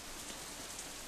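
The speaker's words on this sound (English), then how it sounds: "The rain increases a little more, offended that we haven't fled yet." Steady rain patter from the Katawa Shoujo visual novel, a continuous even hiss of falling drops on surfaces with no talking over it, moderately quiet throughout.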